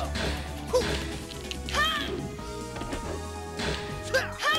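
Kick strikes landing in a Tekken 2 fighting game bout, heard as sharp smacking impacts at irregular intervals over steady background game music, with brief whooshing swings between hits.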